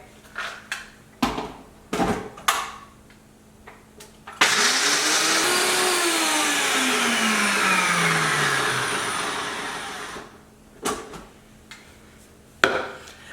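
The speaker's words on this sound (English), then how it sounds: "what I'm gonna do now is put this in the blender" A blender whirs loudly for about six seconds blending raw vegan spaghetti sauce, its pitch rising and then sliding down, between short clattering knocks before and after.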